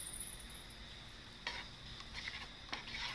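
A spoon stirs milk mixed with starch in a cooking pot, giving quiet, close scraping strokes against the metal at an unhurried, irregular rhythm.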